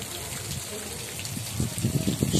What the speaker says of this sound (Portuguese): Olha a chuva, olha a chuva.